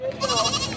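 A goat at a livestock market in Padre Garcia, Batangas, gives one short, wavering bleat, close and clear.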